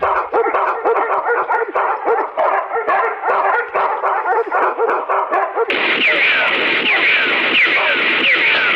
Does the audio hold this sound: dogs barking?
yes